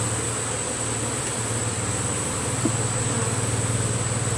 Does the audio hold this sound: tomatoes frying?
no